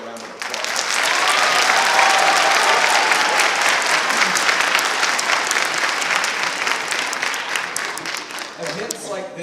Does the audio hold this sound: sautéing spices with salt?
no